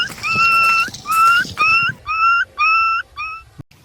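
A dog whimpers in a quick series of about six high, thin whining cries, each short and close, with brief gaps between them and a little background noise.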